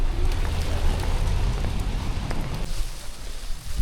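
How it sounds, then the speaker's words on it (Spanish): Heavy rain pours down in Cusco, Peru, a dense, steady hiss that fills the whole stretch at an even loudness, with no voices. "Porque llueve con ganas y no para."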